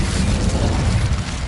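An Incendio fire spell cast in Hogwarts Legacy on PS5: a loud, steady roaring whoosh of flame with a rumbling low body, sustained without break for the whole moment.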